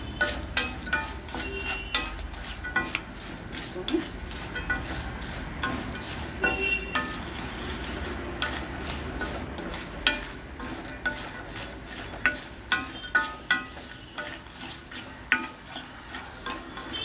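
Food fries and sizzles loudly in a pan while a utensil stirs it, with repeated scraping knocks against the metal over a constant close crackle and no voices.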